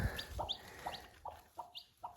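A broody hen with her chick in a coop in freezing weather gives a run of short, soft clucks at a fairly regular rhythm, close by with high peeps between.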